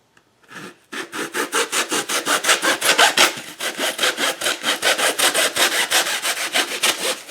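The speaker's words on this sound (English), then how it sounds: "There's better knives you can probably use. For example, this makes a real nice clean cut." A knife blade saws back and forth through terrain material for a tabletop wargame board, making loud, rapid, rhythmic scraping strokes close up, with no talking.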